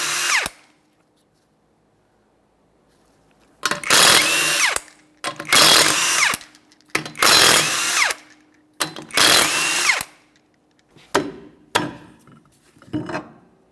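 An impact tool zips off the five 21mm lug nuts on a Toyota Corolla wheel: after a quiet pause, four loud, close rattling bursts of about a second each, then three shorter quick zaps.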